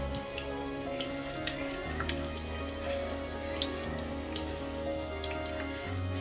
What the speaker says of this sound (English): So let it fry.